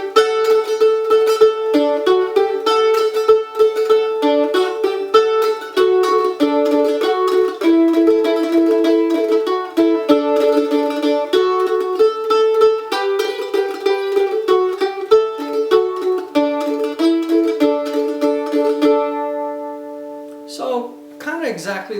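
A mandolin plays a rapid tremolo, adding another note from the chord for a fuller sound, with quick, even repeated picking that carries a melody across about twenty seconds before ending on a short slide, and no talking.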